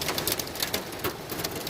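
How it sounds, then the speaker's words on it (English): Heavy rain falls during a severe storm in Denver, a dense, steady hiss of drops pattering on a surface with irregular louder splashes, close and continuous with no talk. "Yeah, we got some rain up in there."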